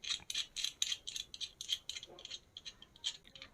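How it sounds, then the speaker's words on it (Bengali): A threaded adapter being screwed onto the metal mount of a Fifine K658 dynamic microphone, giving a close, quiet run of rapid mechanical clicks and rattly ticks with no talking. "এবার অ্যাডাপ্টারটা এখানে স্ক্রু করে নিই।"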